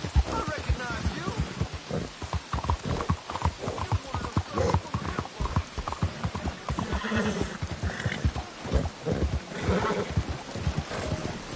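A horse galloping in a video game, rapid rhythmic hoofbeats with a whinny, under intermittent character voices.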